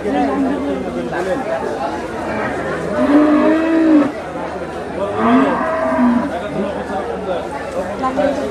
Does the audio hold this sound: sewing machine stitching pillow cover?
no